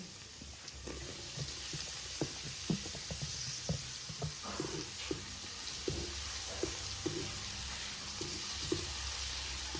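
Garlic and onion sautéing in a large pan for Filipino-style sweet spaghetti: a continuous faint sizzle broken by scattered clicks and scrapes of a spatula against the pan, no talk.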